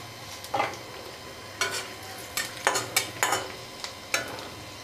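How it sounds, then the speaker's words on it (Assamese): Panch phoron spices sizzle in hot oil over a lowered gas flame, with a steady frying hiss broken by a series of sharp scraping stirs and spoon knocks against the pan, close and clear with no talking. "আৰু এতিয়া ইয়াতে পাঁচফোৰণ অকণমান দি এয়া পাঁচফোৰণ দি দিছোঁ"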